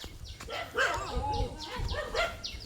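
Several dogs snarl, yelp and bark in a scuffle, a rapid, overlapping burst of close, agitated barks and whines with a voice briefly audible in the background.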